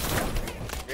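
Rapid gunfire in the video game Call of Duty: Advanced Warfare, a dense burst of loud shots and thuds filling the moment, with a voice talking over it.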